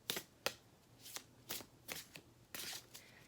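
A deck of tarot cards is shuffled close by in a series of quick riffling bursts with short gaps between them, crisp and papery, with no talking over it.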